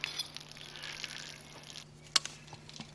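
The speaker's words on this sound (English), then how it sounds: "as you can see, I'm getting water" Fresh water pours from an emergency hand pump on a home well, a soft, steady splashing stream heard up close over a low electrical hum, then stopping with a sharp clink near the end.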